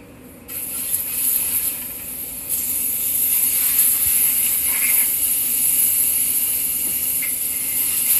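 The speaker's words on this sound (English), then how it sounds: "Now the butter getting hot doing its thing." Butter heating in a pan on the stove, giving off a steady, close sizzling hiss that jumps in level and then holds constant throughout.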